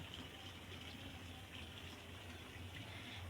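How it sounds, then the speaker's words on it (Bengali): Water from a tap pouring steadily into a container at home, a continuous splashing gush heard fairly close and alone for a few seconds. "জল ভরছে এখন। এই দেখো আমার ছেলে জল ভরছে।"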